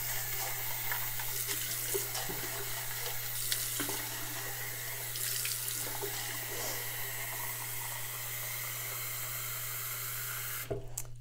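Water runs from a tap into a sink in a steady, hissing splash with a constant low hum beneath, close and continuous, with a few small knocks and a sharp clatter near the end.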